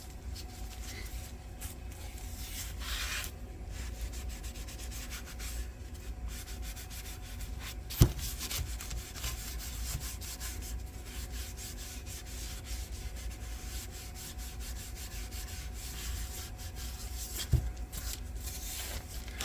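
Grain filler is rubbed by hand into a northern ash guitar body, making a soft, steady scrubbing hiss with two brief knocks along the way and no talking.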